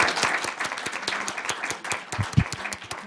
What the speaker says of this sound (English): So a round of applause for all of our Bolingbrook Bunch